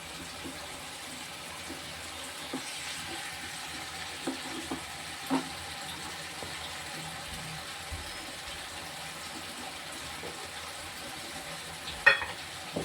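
Bitter gourd sautés in a pan with a little sprinkled water, giving a faint, steady sizzle broken by occasional soft crackles and one sharper clatter near the end.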